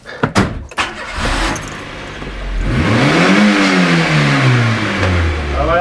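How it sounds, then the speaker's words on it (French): A car is started and driven out of a garage during an engine-mount diagnosis, opening with a few sharp door and handling thumps before the engine revs up, rises in pitch, then settles and climbs again as it pulls away. "Tu veux bien sortir la voiture s'il te plaît?"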